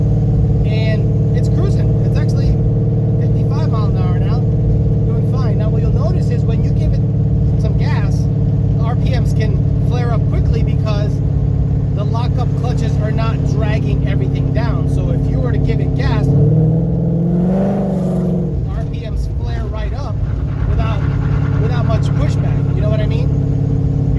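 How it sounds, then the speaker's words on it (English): A Coyote V8 swapped into a Ford Fairmont with a 6R80 transmission cruising at about 50 mph and 2200 RPM, a steady loud droning engine note with a brief shift in pitch, under someone talking throughout. "Right now I'm going 50 miles an hour, 2200 RPM. It sounds like it's more, but it's not."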